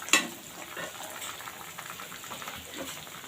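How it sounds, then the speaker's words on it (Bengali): Pieces of rohu fish sizzle and spit in hot oil in a pan, a steady moderate frying hiss with a sharp clatter at the start and a few soft stirs. "ঝোলের জন্য রুই মাছগুলো আমি খুব সুন্দর করে এখন লাল লাল করে ভেজে নিব"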